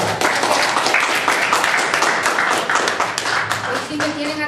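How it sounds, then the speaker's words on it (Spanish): A lecture audience claps in sustained applause, dense and fairly loud, while a voice talks over it near the end. "Un aplauso, por favor."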